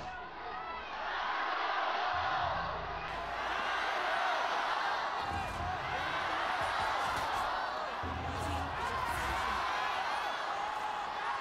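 Esports arena crowd at the LPL Spring 2024 grand final between Bilibili Gaming and Top Esports, a dense continuous roar of cheering and shouting that stays loud throughout, with a commentator's voice faintly underneath.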